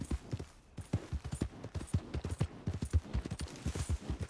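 Horse hooves gallop in Red Dead Redemption 2, a fast, steady run of dull thudding hoofbeats at moderate volume with faint background ambience and no voices.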